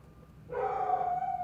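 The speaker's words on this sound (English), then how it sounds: "can you hear my dog?" A dog indoors lets out a single drawn-out howling bark that starts abruptly and holds for about a second, moderately loud and alone without talk.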